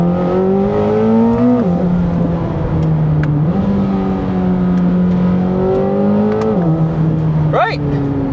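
A Corvette ZR1 V8 engine revs repeatedly while driving, the loud continuous roar rising and falling through several gear changes and throttle swells, steady and close throughout.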